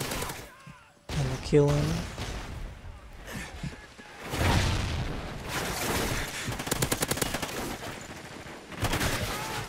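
Bursts of gunfire from the video game Call of Duty Ghosts on PS3 come in rapid, clattering volleys, some near and loud, others more scattered. A player speaks between and over the shots.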